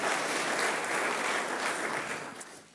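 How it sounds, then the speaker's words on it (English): An audience applauds for Michael during a church sermon, a dense steady clapping that holds strong and close before thinning and fading toward the end, with no talk over it. "let's give Michael a round of applause there"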